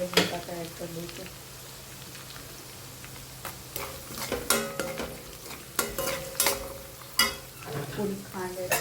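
Spices and diced potatoes for farali khichdi fry and get stirred in a pan, with soft sizzling under irregular scraping and clattering stirs that grow louder toward the end.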